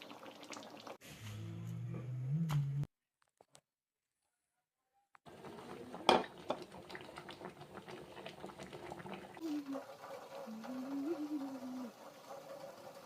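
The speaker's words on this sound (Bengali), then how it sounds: "টকবকানো জলের মধ্যে লাউ পাতাগুলোকে ঠিক এইভাবে 5 মিনিটের জন্য সিদ্ধ করে নেব।" Bottle gourd leaves boil in a pot of bubbling water, giving a soft, steady burble and simmer. A short silent gap breaks it partway through, and faint tonal sounds come and go in the background.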